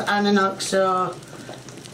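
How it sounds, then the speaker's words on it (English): Beef soup of minced beef, carrots and gravy granules is stirred in a pot, giving a soft sizzling, scraping wash that rises once a voice stops talking over it. "And I'm burning my hand as I am stirring it."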